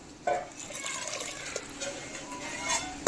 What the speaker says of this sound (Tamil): இப்போ இதில் நம்ம வடிகட்டி வச்சுக்க தண்ணியை சேர்த்துருவோம்.